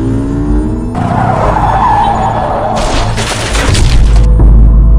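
Road collision on Mapalad Road, Nueva Ecija, where a tricycle carrying a family struck an oncoming motorcycle: a loud sustained rumble and screech, then a sharp burst of crashing noise, with engine drone continuing afterward.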